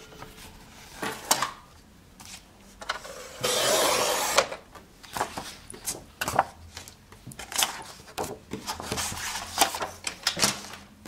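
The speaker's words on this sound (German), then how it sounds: "Als erstes werde ich also dieses Papier zuschneiden." Paper is trimmed to size for a handmade scrapbook page, with a run of close, faint snips and shuffles, one longer rasping slide through the sheet, and intermittent handling noises.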